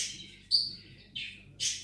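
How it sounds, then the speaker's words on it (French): A bird sings indoors in a home, giving short high chirps and whistles in three or four separate bursts, moderately loud and close, with a quiet room behind and no talking. "Si vous entendez l'oiseau, c'est parce que il est en train de chanter"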